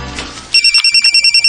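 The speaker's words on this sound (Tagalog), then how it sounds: "Ang cellphone ni Pudi." A mobile phone rings loudly and close by with a fast, regular electronic trill of evenly spaced beeps, cutting in suddenly after some quiet indoor background murmur.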